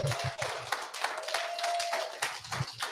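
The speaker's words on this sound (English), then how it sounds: "Give yourselves a round of applause." A small crowd at the Mornington Inn in Hobart claps steadily throughout, a dense patter of hand claps filling the room without pause.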